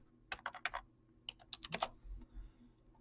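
Keys clatter on a computer keyboard as a coin's date and mint mark are typed into a search, two quick bursts of close, quiet keystrokes separated by a brief pause.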